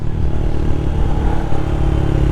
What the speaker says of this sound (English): I think this bike sounds really good for a small little, I think it's a single.